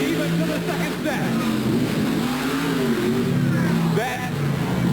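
Monster truck engines revving at a Monster Smash final in Bowling Green, Ohio, a loud steady engine drone with rising and falling pitch sweeps throughout, partly under an announcer's commentary and crowd noise.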